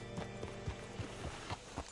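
A horse's hooves clip-clop in Red Dead Redemption 2, a quick, even rhythm of close, distinct hoofbeats on hard ground, heard alone.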